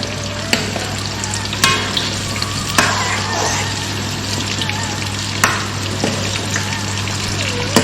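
Beef for Mongolian beef frying in a pan of hot oil, a continuous close crackling sizzle with a low steady hum beneath and occasional sharp clicks from turning the pieces.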